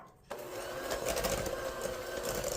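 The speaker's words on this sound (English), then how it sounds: "I'm just going to cheat today and use the Mix Master. Give it a quick blend." A Mix Master stand mixer blending cake batter switches on abruptly and runs with a steady motor whir, the beaters churning loud and close without pause.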